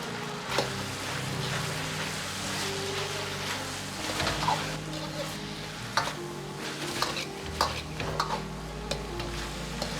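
Chicken with green peppers and garlic cloves stir-fried in a wok over high heat: a steady sizzle with repeated scraping and tossing strokes throughout, close and moderately loud, with no voices.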